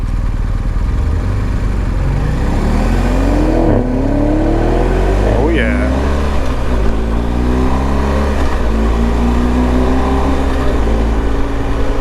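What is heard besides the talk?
combustion car engine revving with exhaust burble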